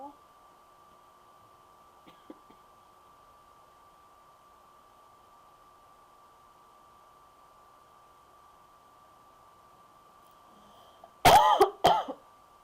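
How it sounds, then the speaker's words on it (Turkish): Coughing fit bursts out near the end, several loud throat-clearing coughs after a long stretch of quiet steady hum, with a couple of faint clicks earlier. "Biraz öksürük tuttu."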